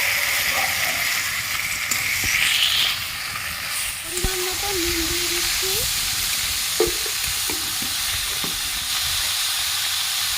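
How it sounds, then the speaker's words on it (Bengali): Ash gourd sautéing in hot oil in a rustic village-style kitchen gives a steady, continuous sizzle and frying hiss, with occasional stirring clinks and scrapes over the top and no talking. "ভালো করে তেলে একটু কষিয়ে নিচ্ছি ভালো করে কষানো হয়ে গেছে কেটে রাখা চাল কুমড়ো দিয়ে দিচ্ছি"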